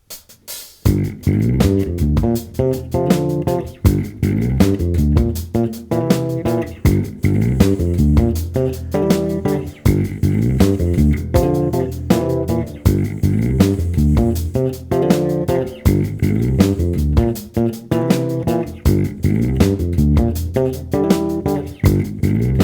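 Funky bass guitar riff built on double stops of fourth intervals, with hammer-on ideas, played as a steady, loud, syncopated groove for over twenty seconds with no talking.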